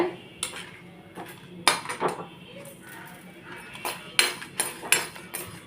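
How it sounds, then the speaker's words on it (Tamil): Dried red chillies and rice roasting in a pan for Guruvayoor temple-style rasakaalan, heard as irregular metallic scrapes and clinks of a spoon stirring against the pan over a faint background. "வரமிளகா அரிசி வறுக்க ஆரம்பிக்கிறேன் நான் இது நல்லா செவந்து வறுக்கணும்"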